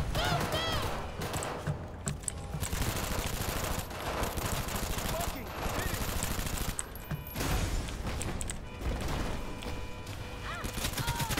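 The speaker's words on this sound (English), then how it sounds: "Can I pull out my gun and shoot these assholes" Sustained automatic gunfire in Cyberpunk 2077, dense rapid bursts with brief pauses, loud and close, mixed with crashes and game noise and a voice talking over it.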